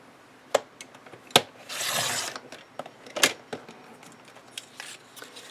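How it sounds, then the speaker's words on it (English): Cardstock strips cut on a paper trimmer: several sharp, separate clicks and slices, each close and crisp, with one longer sliding rasp of the blade. Quiet handling noises fill the pauses. "So I'm going to have to cut 3 of these strips because I can get 2 pieces out of each strip"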